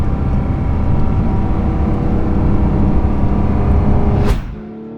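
A rally car drives on winding Smoky Mountains roads, its engine droning steadily and loudly close up, then easing off abruptly as the throttle lifts.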